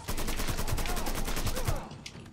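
Sustained rapid gunfire in the video game Mafia 3, a dense burst of shots loud and close for about two seconds before cutting off.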